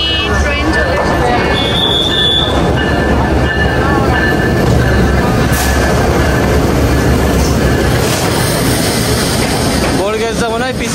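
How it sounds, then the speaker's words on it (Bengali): A passenger train pulls into a railway station in Kushtia, Bangladesh, with a loud, continuous rumble of wheels and carriages, a brief high squeal, and people talking nearby. "ফাইনালি ট্রেন চলে এসেছে।"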